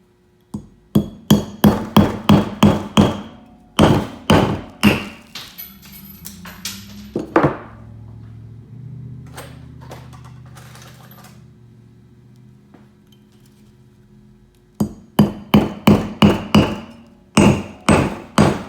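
A fluted nail is driven with a hammer: two loud bursts of rapid, ringing strikes, then a quiet pause, then another run of sharp blows close by.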